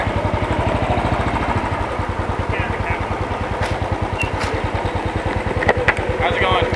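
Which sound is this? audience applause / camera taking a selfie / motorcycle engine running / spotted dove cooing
motorcycle engine running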